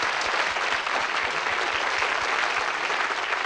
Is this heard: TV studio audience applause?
yes